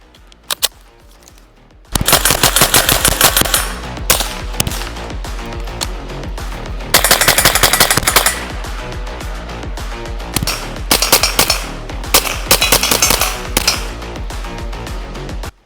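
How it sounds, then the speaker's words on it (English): A .22LR rifle fires a quick string of sharp, loud cracks in bursts, with short pauses between the strings of shots and no talking. "we're gonna fire a couple rounds to it and see how she runs"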